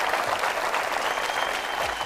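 An audience on the Bhojpuri game show Ke Bani Crorepati gives dense, steady applause that fills the whole moment without pause.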